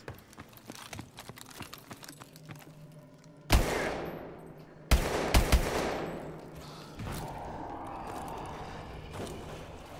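Video game gunfire: a few loud sharp shots that ring out with long decaying echoes, spaced seconds apart over quiet background ambience.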